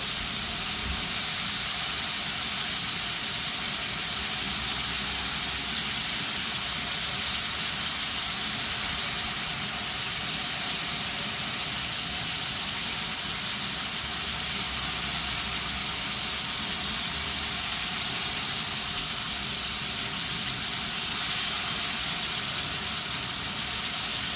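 Squid and pork belly in a pan over high heat, giving a constant broad hiss of sizzling with a low rumble underneath and no talking.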